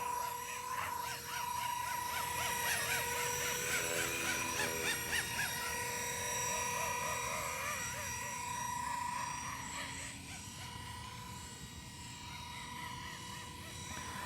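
A Blade 230S RC helicopter, battery-powered and flying 3D, hums with a steady rotor whine at moderate distance while crows caw nearby and a voice talks in the background.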